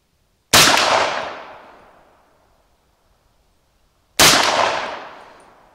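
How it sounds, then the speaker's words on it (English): Two loud rifle shots from a BCA 8.6 Blackout upper, fired alone several seconds apart outdoors, each a sharp crack followed by a long rolling echo fading away. "this one I'm going to fire 3 rounds, or whatever's left here"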